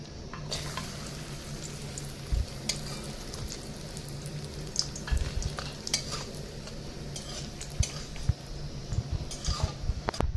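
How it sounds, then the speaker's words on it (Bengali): Cashews and raisins fry in hot oil in a pan, giving a steady sizzle with scattered crackles and occasional stirring clinks, close and fairly loud throughout. "কি কাজু কিশমিশ ভাজা হয়েছে"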